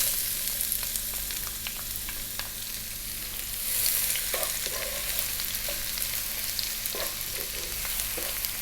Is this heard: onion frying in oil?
yes